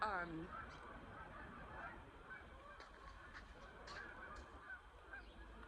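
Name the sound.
ducks or geese honking loudly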